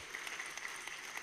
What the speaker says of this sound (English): can we get a round of applause to the turnout that's here today?